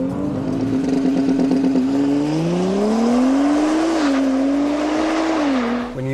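An Audi B9 S4 held at launch RPM with anti-lag engaged, its engine droning loud and close as the pitch climbs, wavers and settles in a sustained, strained rev.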